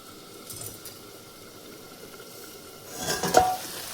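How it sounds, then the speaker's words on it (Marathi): Spice masala for soybean chunk curry fries in a pan with a low, steady sizzle, then a louder burst of stirring and pan scraping near the end. "मसाला चांगला फ्राय व्हायला लागलेला आहे"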